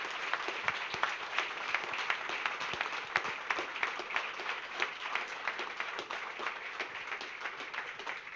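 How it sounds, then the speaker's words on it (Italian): A crowd at an Italian regional election campaign launch applauds at length, with sharp individual hand claps popping out of a steady, moderately distant wash of clapping that holds for several seconds. "Ecco qua, un applauso a tutti."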